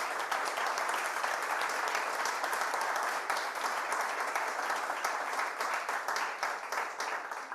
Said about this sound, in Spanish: les pido un aplauso a los invitados